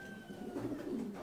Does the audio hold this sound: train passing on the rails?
no